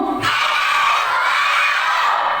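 Boys at an elementary school Islamic study session shout together in one loud, sustained burst that starts abruptly and holds steady to the end, a crowd of young voices in a hall.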